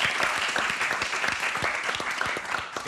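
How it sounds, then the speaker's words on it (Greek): A studio audience at a Greek television music tribute claps warmly. The applause is a dense, continuous patter that stays fairly even throughout, with no speech over it. "Να σας χειροκροτήσω."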